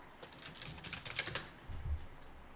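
Fingers typing a search into a computer keyboard, a quick run of light clicking keystrokes close by and fairly quiet, then a soft thud.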